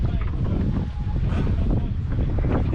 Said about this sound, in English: This is like 10 knots of wind from behind, roughly.